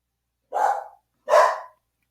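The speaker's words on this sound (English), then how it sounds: "Got the dog alarm going off now because Amazon's here." A dog gives two loud, close barks about a second apart, sharp and clear against silence, set off by an Amazon delivery arriving.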